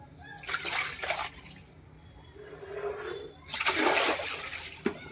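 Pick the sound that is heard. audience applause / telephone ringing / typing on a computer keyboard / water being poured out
water being poured out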